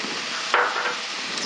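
Cauliflower tipped into peas frying in a kadai gives a brief clatter and hiss, a single sharp drop followed by softer sizzling, close and alone without talk.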